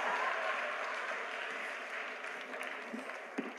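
An audience applauds at a live radio presentation in Santiago de Compostela, a steady faint patter of clapping with a few louder claps near the end.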